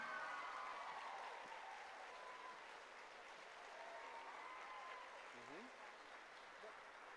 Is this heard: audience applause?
yes